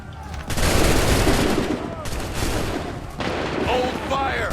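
A musket fusillade in the Assassin's Creed III video game, loud bursts of massed shots in two waves with rumbling booms and shouting voices mixed in.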